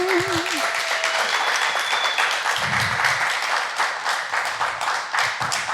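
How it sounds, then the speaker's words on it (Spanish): Studio audience applause for a singer after her audition, steady clapping with a few whistles running under a voice talking throughout. "un fuerte aplauso para Bella"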